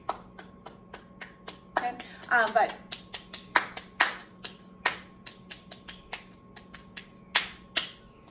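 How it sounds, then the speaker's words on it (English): Soft, gentle hand claps used as body percussion, a dozen or more light separate pats in an uneven rhythm, close by, with a person talking briefly between them. "It's a really gentle clap"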